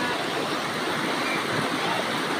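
River water rushing steadily over a rocky bed, a continuous close broadband wash with no voices.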